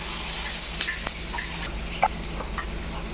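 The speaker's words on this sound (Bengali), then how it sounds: "নেড়ে চেড়ে অল্প হালকা ভেজে নেব। পেঁয়াজটা লাল হয়ে গেছে, এখন আমি কাঁচা লঙ্কা দিয়ে দিব।" Onion and green chilli stir-frying in a pan for a jute leaf dish with prawns, a steady soft sizzle with a few light scrapes and one sharper clink of a spatula, no talking.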